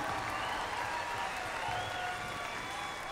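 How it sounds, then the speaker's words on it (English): Applause from the audience at the Miss Indian World crowning, Gathering of Nations Pow Wow, for the second runner-up: a steady, dense wash of clapping from a large crowd, fairly distant and even throughout, with faint crowd murmur. "let's give her a big round of applause"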